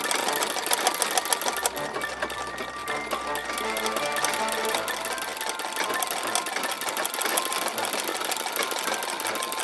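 An embroidery sewing machine stitches a leaf design in combined thread colours, running as a steady, continuous mechanical whir with rapid needle clatter throughout, fairly close and with no talking.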